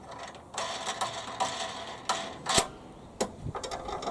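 Small metallic clicks and taps come up close while a bolt, a washer and a black knob are fitted onto a lawn mower handle. The knocks are irregular, with a few sharper ones.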